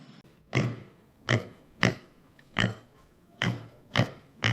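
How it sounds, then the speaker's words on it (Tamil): Seven short, gruff pig grunts spaced roughly half a second apart, close and clear with quiet gaps between them. "பன்றி உருமும்"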